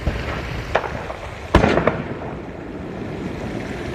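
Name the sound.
fireworks going off nearby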